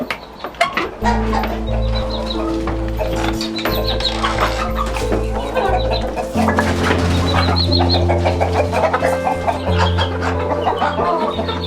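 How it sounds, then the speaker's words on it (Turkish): Chickens of mixed breeds, including Brahma, cluck and murmur close by, several birds calling in irregular bursts over a low, steady hum, with no voices among them. "Şimdi buradaki tavuklar karışık cinsler var"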